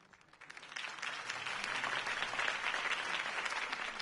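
Crowd applause after a campaign speech, starting quietly and swelling within a second into loud, sustained clapping from a large audience.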